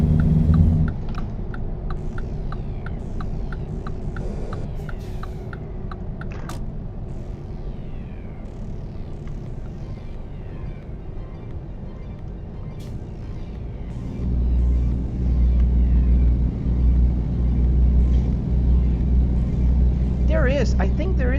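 Car engine rumble and road noise while merging onto a highway in American Truck Simulator, a steady drone that swells louder partway through, with a person talking over it throughout.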